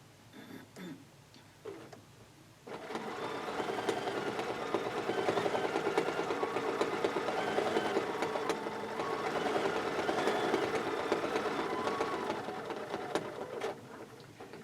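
A sewing machine stitching during machine quilting, a loud steady whirring hum that starts after a few quiet seconds and runs continuously up close, alone without talk.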